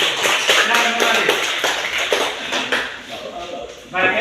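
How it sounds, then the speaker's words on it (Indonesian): A classroom applauds for group one after their presentation, a burst of many hands clapping close by that fades, then picks up again briefly, with voices talking over it. "tepuk tangan untuk kelompok satu"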